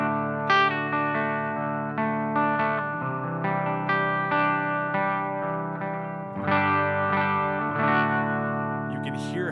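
Electric guitar through a Mythos Mjolnir 1n34a pedal switched on, ringing sustained chords and picked notes with a driven, effected tone, changing chords a few times, loud and clear with no talking.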